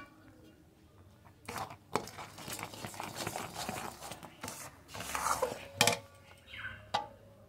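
Puffed rice is worked together with jaggery in a pot, making a busy run of crunchy rustling and scraping strokes. Irregular clatter comes from a metal vessel, with a couple of sharp knocks standing out.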